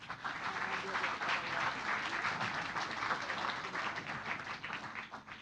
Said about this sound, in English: another round of applause for the wonderful speakers along with our wonderful moderator